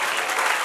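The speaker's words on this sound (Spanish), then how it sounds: "Déjale un aplauso al Señor." A church congregation breaks into applause, a brief burst of dense, even clapping from a crowd.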